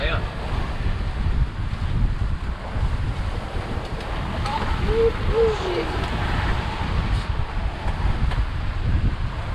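Steady roaring wind gusting around 15 to 22 knots buffets the microphone on a sailboat at sea, with broad rumbling noise and water sloshing, continuous and loud throughout.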